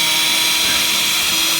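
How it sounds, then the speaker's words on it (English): A power drill drives screws into the corner of a wooden box planter, a loud, steady whirring whine that holds without a break. "we're going to put 2 screws in"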